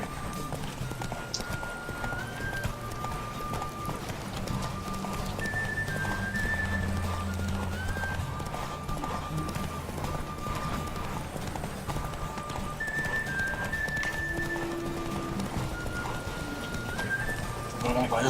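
Horse hooves clip-clop at a steady gallop in The Witcher 3, with a brief whinny and game music under ongoing talk between riders.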